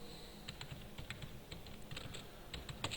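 Fast, light clicking of keys on a computer keyboard while MATLAB code is written, irregular taps spread across a few seconds, faint and close with no talking.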